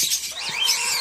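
A pineapple green-cheeked conure, a handfed young bird, gives a brief shrill chirping call, close and fairly loud, lasting about a second.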